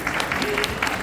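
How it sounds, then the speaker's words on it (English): An audience at a Halloween Horror Nights panel at the Spooky Empire convention claps, a short burst of scattered, uneven handclaps from a modest crowd, fairly close. "Round of applause for Kid."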